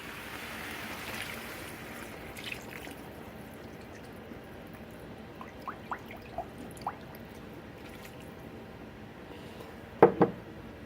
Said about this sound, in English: go ahead and pour your broth in.